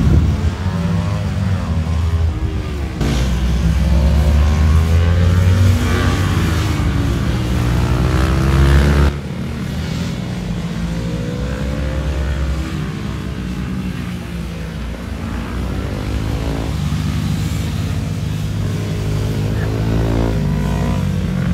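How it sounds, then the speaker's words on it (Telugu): Go-kart engines buzz and drone around a go-karting track, a loud steady whine that rises and falls as karts pass close and then recede, with a sharp drop in level partway through. "ఇక్కడ గో కార్టింగ్ అవుతుంది అండ్ ఆల్సో ప్రెసెంట్ అయితే ఇక్కడ రేసింగ్ బాగుంది"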